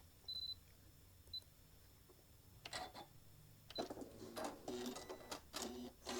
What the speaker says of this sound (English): now we're going to just stitch it down